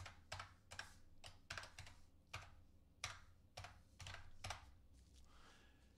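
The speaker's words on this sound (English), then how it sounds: "So I will type my password that I put in here." Someone types a password on a computer keyboard: a quiet, close series of separate key clicks in an uneven rhythm, with no speech.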